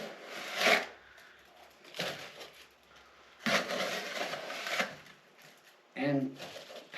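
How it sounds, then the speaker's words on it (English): Granular sugar is scooped with a bread pan into a beehive shim, giving rough, scraping rustles in several bursts with short pauses between them. "I'm going to take my bread pan again as my scoop, and I am going to fill the shim up."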